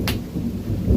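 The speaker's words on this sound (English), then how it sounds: "some big claps of thunder," A low, heavy rumble of thunder rolls through a rainstorm, loud and close over steady rain.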